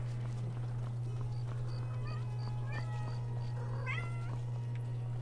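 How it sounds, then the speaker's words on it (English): A cat in Skyrim meows several times, with short rising calls scattered through the clip over a constant low hum and game ambience; no one speaks. "Hi, honey cat. Meow, meow, meow."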